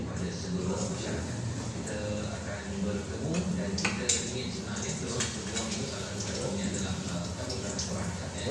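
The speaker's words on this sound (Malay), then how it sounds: "Sambil itu saya basuh pinggan." Plates clink and rattle under steady running water from a tap, close by, with a person talking over the washing.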